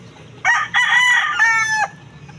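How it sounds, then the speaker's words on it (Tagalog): A rooster crows nearby in one loud, drawn-out call with a brief break partway through, standing out clearly over faint background noise. "Ayan manok na yan guys."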